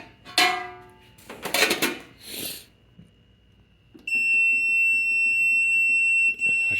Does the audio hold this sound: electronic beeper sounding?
yes